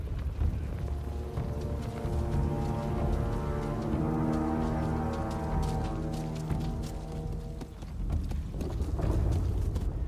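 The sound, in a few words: horse hooves clip-clopping in video game Ghost of Yotei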